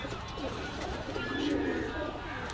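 Pigeons coo softly in a pigeon shop, their low burbling calls mixed with indistinct background murmur throughout.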